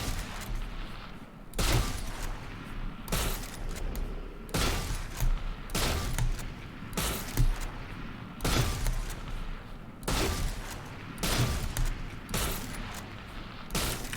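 Scoped sniper rifle shots in the tactical shooter Valorant, fired one at a time: nine sharp, loud reports spaced about every one and a half seconds, each clean and punchy against a low background hum.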